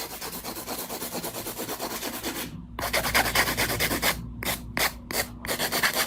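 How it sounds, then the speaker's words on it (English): Rapid back-and-forth rasping of a hand file shaping acrylic nails, a steady scratchy rhythm running continuously for several seconds with brief pauses near the end. "You need to have this technique to be able to file on top of the nails."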